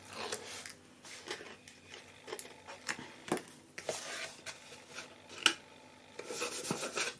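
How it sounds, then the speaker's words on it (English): Release backing peeled from the adhesive front flap of a handmade paper gift bag, with soft rubbing and scraping paper sounds, small rustles and a light tap, quiet and close by. "Then I remove the backing from the front flap."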